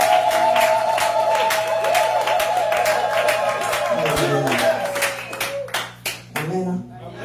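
Church congregation at a Sunday service clapping steadily in rhythm with cheers, the applause thinning out into scattered claps and a few voices before stopping.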